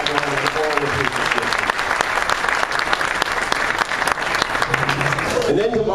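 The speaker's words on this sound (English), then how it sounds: "let's give a great round of applause for that great medical institution right in the heart of the neighborhood" Breakfast crowd at a volunteer appreciation event in Boro Park claps in a thick, sustained round of applause, with voices talking near the start and end.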